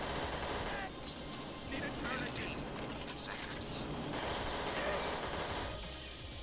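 Sustained automatic gunfire from a held trigger in the Perfect Dark Zero shooter, a dense continuous rattle running the full length under mixed game sounds, with talk present.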